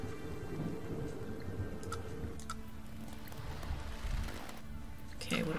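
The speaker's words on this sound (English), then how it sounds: "There's a storm there." Thunderstorm with rolling thunder and steady rain in the sailing video game Nantucket, a continuous low rumble under dense rain hiss with a few brief sharper crackles, fairly loud throughout.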